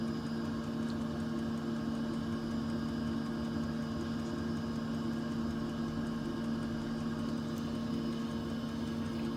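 Diesel parking heater in a camper van running with its coolant-circulating pump motor, a continuous steady hum with a strong low tonal drone and faint hiss, unchanging throughout and without speech.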